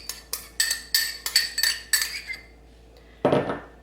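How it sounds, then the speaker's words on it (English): A utensil mixing salmon patty ingredients (Parmesan, panko, lemon juice, onion, breadcrumbs, paprika, dill) in a bowl, with a quick run of bright clinks against the bowl, a short pause, then one heavier knock. "We are just going to mix this together well."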